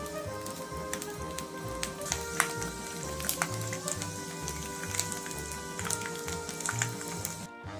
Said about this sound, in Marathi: इथे पाहू शकता तुम्ही साबुदाणा छान असा आपला तळला जात आहे।